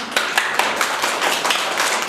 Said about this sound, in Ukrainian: Плескайте нам.